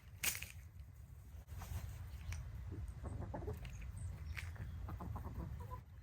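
A rooster gives a run of low, quick clucking calls to bring hens to food, fairly close, over steady outdoor background noise.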